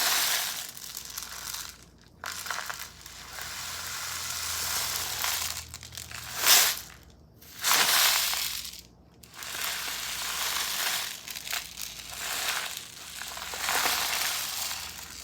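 A homemade rainstick is tipped and turned, giving long continuous rattling cascades of small pellets that swell and fade, with brief silent gaps as it is flipped over.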